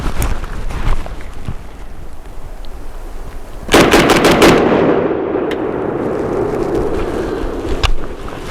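An AK rifle fitted with a PWS JTAC compensator fires at natural speed outdoors. A loud, sharp opening crack is followed by a quick string of rounds, and each shot leaves a long, rumbling echo.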